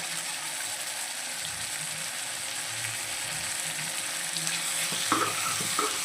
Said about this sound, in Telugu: పచ్చి వాసన పోయేంత వరకు మంచిగా ఫ్రై చేసుకున్నాము